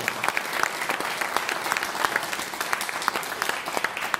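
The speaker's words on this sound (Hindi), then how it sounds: "तालियां जोर से बजनी चाहिए।" Audience applause at a network marketing seminar, a crowd clapping in a dense, steady stream with sharp individual claps standing out, sustained throughout at moderate volume.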